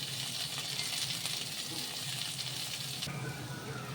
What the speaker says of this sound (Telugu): ఆనియన్స్ బాగా ఫ్రై అయ్యాయి